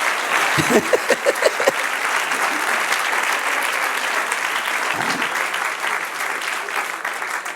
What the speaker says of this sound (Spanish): Aquí hay que aplaudir hasta con los pies.